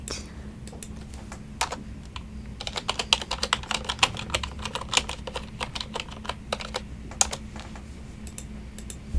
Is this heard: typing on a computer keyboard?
yes